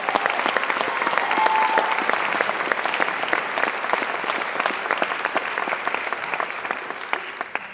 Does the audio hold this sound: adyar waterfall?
no